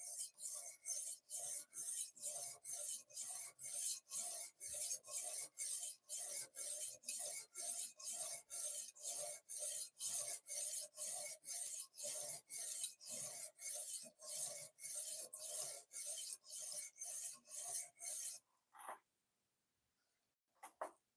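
A knife blade is stroked back and forth across sharpening stones in a steady, rhythmic series of close raspy scrapes, about two per second, ending in silence and a final clack.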